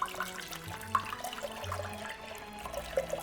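Milk glugs and splashes as a gallon jug is poured into a pot, a soft, close, uneven liquid stream with small bubbling gurgles.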